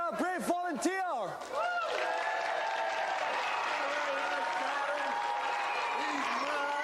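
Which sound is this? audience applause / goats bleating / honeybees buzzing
audience applause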